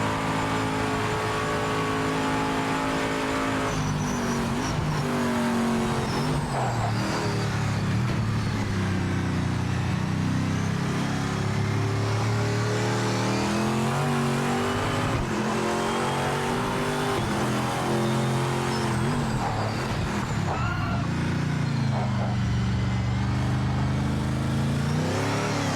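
Race car engine in the Project Motor Racing video game, revving hard and climbing through the gears under acceleration with strong harmonic whine and shifting pitch sweeps, loud and continuous throughout with no talking.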